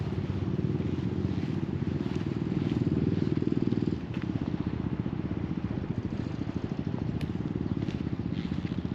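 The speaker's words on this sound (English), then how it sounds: "Sorry about the motorbike noise in the background." A motorbike engine drones steadily in the background near an outdoor fishing spot, a continuous low rumbling putter that holds for the whole stretch with a slight shift in pitch partway through.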